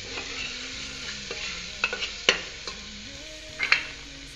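Spices for a stuffed tinda gravy frying in a pan and being stirred: a soft, low sizzle broken by several light spoon scrapes and taps, with faint tonal sounds in the background.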